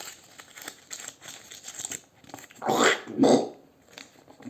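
A 5 euro banknote being crumpled by hand, heard as close, crisp crackling bursts of paper with two louder crinkles in the middle, over faint background noise and no speech.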